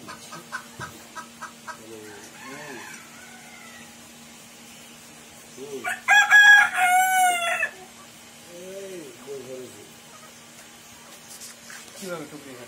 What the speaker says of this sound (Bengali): দেখি মুরগিগুলো ঘাস খায় কিভাবে।